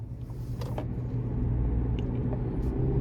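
A 2023 GMC Canyon Elevation pickup with a 2.7-liter turbocharged engine and 4WD hums in a steady low rumble from inside the cab on a road drive, with faint ticks and clicks over the drone.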